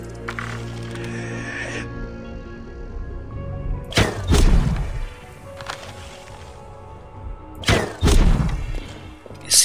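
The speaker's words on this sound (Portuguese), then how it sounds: "Esse arco está muito bom de tiro, hein?" A bow looses arrows in Assassin's Creed Origins, producing two separate sharp twangs with heavy thudding impacts a few seconds apart, set against quiet ambient game sound.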